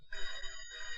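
A telephone rings with a short electronic warble in a Hindi film scene, a single burst of about a second, fairly faint and clear, with no talk over it.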